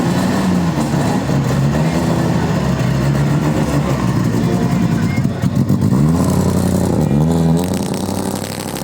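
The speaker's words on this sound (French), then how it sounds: "ici nous avons la division 3, classe 11 avec cette numéro 26 pour Frédéric Coupeau avec cette BMW compact" The number 26 BMW Compact rally car, division 3 class 11, roars loudly at the Momignies rally, its engine revving up and down through rising and falling sweeps as it passes close by.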